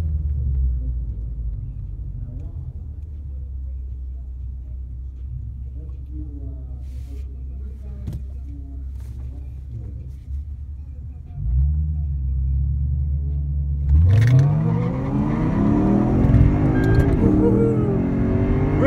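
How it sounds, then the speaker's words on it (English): A Nissan 370Z drag-racing against a Lexus IS F sits at a low rumbling idle, then surges as it accelerates hard, the engine note rising louder near the end, with faint voices nearby. "he's gonna run a 370Z"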